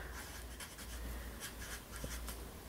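A pen writing on paper with soft, faint scratching strokes in short bursts over a steady low background hum, close and quiet, no speech.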